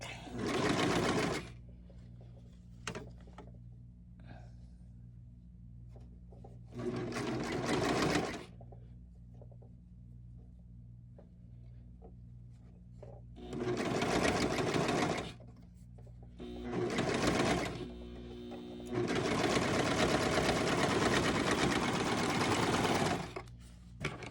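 Sewing machine stitching sleeves into an 18-inch doll T-shirt, running in several bursts of a few seconds each, the last one long and steady, with quiet pauses between.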